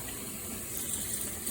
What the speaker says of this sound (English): I'm rinsing off all the salt.